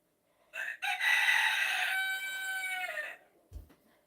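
A rooster crows once loudly and close, a long harmonic cock-a-doodle-doo lasting about two and a half seconds, followed by a brief low thump.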